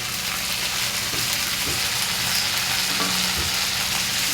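Ground turmeric, coriander and chili powder frying in a pan for a ridge gourd dish, giving a loud, steady hiss of sizzling oil with faint stirring scrapes underneath, with no one talking.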